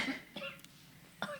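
A few short, quiet coughs, spaced apart, with a faint room background between them.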